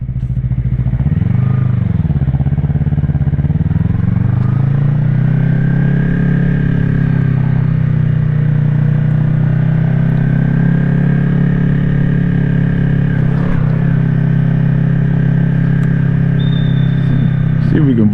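Yamaha YZF-R3 motorcycle engine climbing a hill, a loud steady close drone with a brief dip and rise in revs near the start, then a sustained even pull, with no voices.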